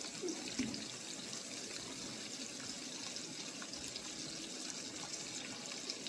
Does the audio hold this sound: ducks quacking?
no